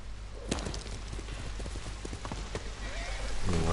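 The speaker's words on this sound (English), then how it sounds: "We're asking the horse to do a lot here." A horse gallops with quick clip-clop hoofbeats in the open-world samurai game Ghost of Tsushima, set on Iki Island. Rain patters around it and the hoofbeats stay fairly close and steady.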